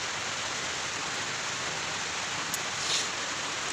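Rain falls steadily outside, a soft, even hiss of drops that carries on without a break, faint and uniform throughout.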